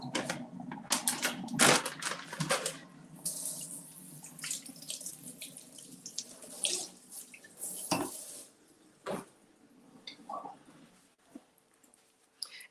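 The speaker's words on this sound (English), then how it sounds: "let's rinse this off." Food for creamy spicy garlic zoodles with shrimp is rinsed under a running kitchen tap, water splashing steadily into the sink with clinks of dishes and cutlery, close and alone without talk.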